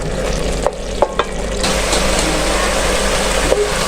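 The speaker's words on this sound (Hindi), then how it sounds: "लहसुन अदरक हमारा अच्छा सा भून रहा है" A constant loud sizzle of garlic and ginger frying in hot oil, with a few sharp clicks of stirring at the start; no voices.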